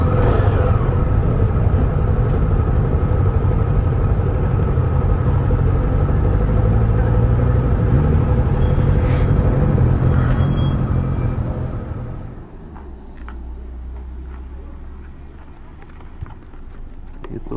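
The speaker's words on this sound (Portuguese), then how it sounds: "Todas as motos aí que vieram no passeio hoje," Loud, sustained rumble of a group of motorcycles from a club ride running and revving nearby, then easing down to a quieter idle, with people talking over it.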